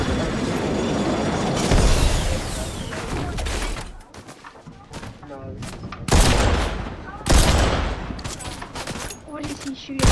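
Dense bursts of rapid gunfire from a battle royale video game, loud and continuous with sharp volleys and brief lulls, alongside mechanical clatter and occasional voices.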